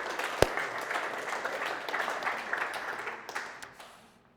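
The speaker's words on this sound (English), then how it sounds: "Give them a round of applause." A crowd at a company all-team meeting breaks into sustained applause with one sharp close clap near the start, the clapping holding steady before tapering off toward the end.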